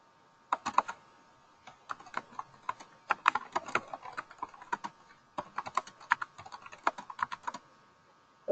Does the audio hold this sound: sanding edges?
no